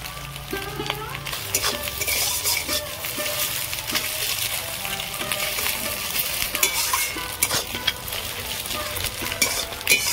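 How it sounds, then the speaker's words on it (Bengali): An egg frying in a pan makes a continuous near sizzle, punctuated by frequent metallic clinks and scrapes of a utensil stirring against the pan. "ডিম ভাজা হয়ে গেছে, তুলে নেব।"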